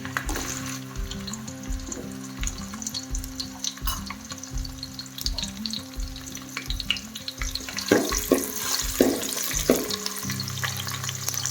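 Mustard seeds and cumin fry in hot oil for a palya, producing a busy crackling sizzle with rhythmic stirring knocks and louder popping spatters toward the end.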